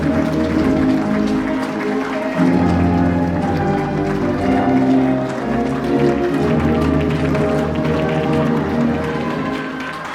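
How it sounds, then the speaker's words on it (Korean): Applause from wedding guests fills the hall, a steady wash of clapping held loud over continuous music with a sustained tonal backdrop throughout. "뜨거운 박수 부탁드리겠습니다"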